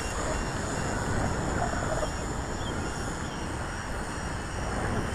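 A Kai Deng K70C remote-control airplane flying during a range test, a steady, broad whooshing drone dominated by wind rush, with a faint high motor whine held throughout at moderate distance.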